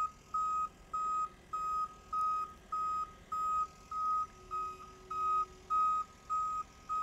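A tow truck's reversing alarm beeps steadily, about twice per second, with a clear high tone repeating evenly over faint background noise, at a roadside checkpoint.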